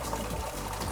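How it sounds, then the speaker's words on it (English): Water is drawn by air suction through a screen in a clam nursery, producing a continuous close gurgling, trickling rush with no pauses. "The water is pumped by air suction and is moving through the screen"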